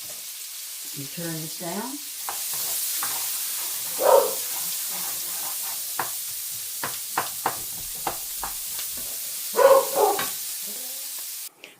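Chopped onions fry in a pan for a sweet and savory fig-bacon jam, giving a steady close sizzling hiss with occasional stirring clicks, while a person speaks briefly over it.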